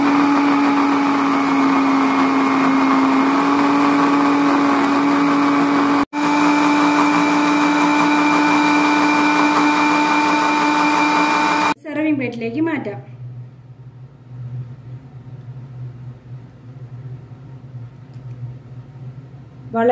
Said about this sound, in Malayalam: ഇനി നമുക്ക് ഇതൊന്ന് ഒരു ഹൈ സ്പീഡിലിട്ട് 30 സെക്കൻഡ് നല്ലതുപോലെ അടിച്ചെടുക്കാം।